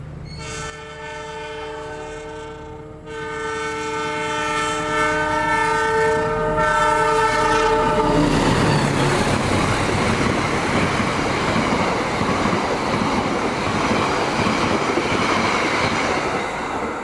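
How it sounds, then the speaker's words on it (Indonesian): The Kutojaya Selatan train pulls away from Langen station in Indonesia, its horn sounding in long harmonic blasts before the rumble of wheels and carriages builds into a loud, steady roll. "Sekarang kereta Kuto Jaya Selatan sudah berangkat kembali dari stasiun Langen."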